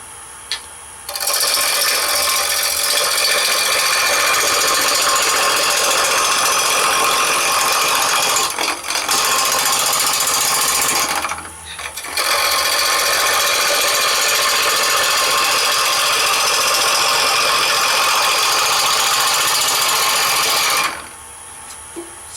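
A wood lathe spins an egg-shaped blank while a hand tool shaves it at an angle, giving a steady, loud broadband hiss of cutting in two long passes with brief pauses between.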